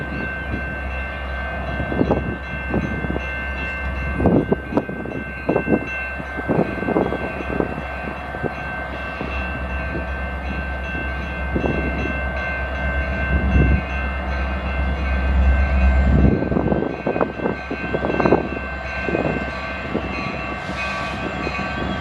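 CN freight train 399, pulled by three engines, rolls westbound through Battle Creek, Michigan, with a deep, steady rumble of wheels and cars and repeated clanks and knocks over about twenty seconds, loud and close throughout.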